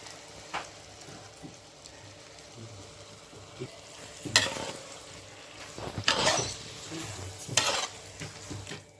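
Okra masala with curd added simmers in a pan, giving a low, steady bubbling with intermittent louder bursts of stirring and spoon scraping.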